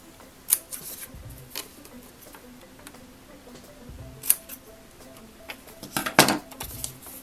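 Scissors snip a small V shape into paper for a Midori Traveler's Notebook journal, a few sharp, crisp clicks spaced apart against a quiet room, close to the ear.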